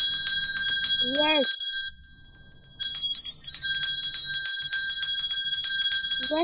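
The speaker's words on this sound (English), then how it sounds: "are you able to hear the sound of this bell?" A small bell, shown during a science lesson on sound, rings in repeated bright metallic strokes with a short pause partway through, while a child briefly answers.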